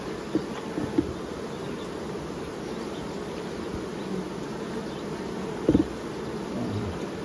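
Honey bees buzz steadily around a hive in the heat, a soft, continuous drone with a few closer passes standing out briefly.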